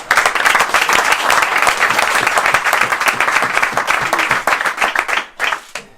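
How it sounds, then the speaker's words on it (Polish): Loud, close applause from a football team's players and staff in the locker room after an away win, fast dense clapping throughout that thins into a few scattered claps at the end. "Także wielkie brawa dla Was, dla Was za Waszą robotę do tej pory."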